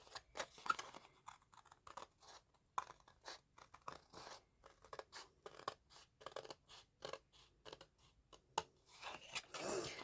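Scissors cut along the edge of a craft coffin box, a series of soft close snips and crisp crunches at an uneven pace, quiet with no talking.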